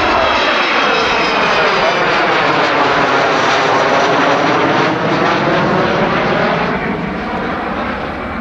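A Vulcan bomber, one converted to a tanker, roars past overhead at Woodford in 1987, a loud continuous jet-engine howl whose pitch sweeps as it nears and recedes over several seconds.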